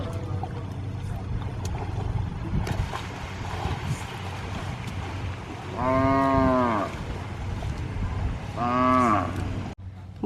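A cow or bull moos twice, two long low calls a few seconds apart, over a rumbling motor and splashing water in the background, at a waterfall in a forest in the Philippines.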